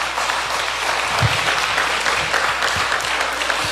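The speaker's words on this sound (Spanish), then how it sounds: "Dale un aplauso al Rey" A congregation at a Christian gathering applauds in a steady, moderately loud burst of many hands clapping, lasting a few seconds without speech.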